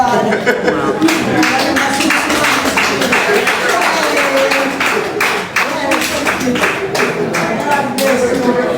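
Crowd applause at a Jamaican political rally, dense steady clapping from many hands filling the whole stretch, loud and close, with voices mixed in underneath.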